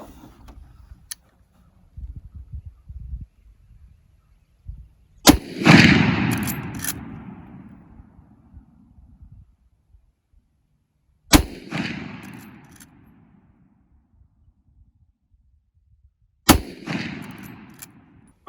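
Three loud, sharp gunshots from a 30-30 deer rifle fired at a target outdoors, spaced several seconds apart, each with a long echoing decay; faint handling clicks fill the quiet gaps.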